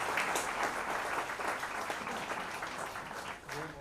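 An audience at a spring festival awards event claps together in one continuous burst, fairly distant and steady throughout, with no voices over it.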